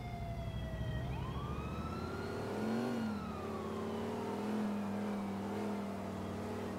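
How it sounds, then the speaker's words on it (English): An ambulance siren in GTA IV with the LCPDFR mod wails with rising and falling tones over a steady revving vehicle engine, loud and continuous with no talking. "ambulance."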